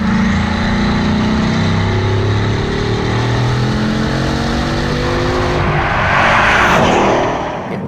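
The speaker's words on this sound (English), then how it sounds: "There's a little bit of turbo lag because it's still making 200 brake horsepower per litre." A turbocharged supercar making around 200 brake horsepower per litre accelerates hard, its loud engine note climbing steadily through rising harmonics for several seconds, close and continuous with no talk over it.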